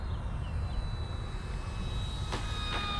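An Eflite P-47 Razorback 1.2 m RC plane's electric motor hums at a distance while landing with the throttle backed off, a thin high whine over steady outdoor wind rumble.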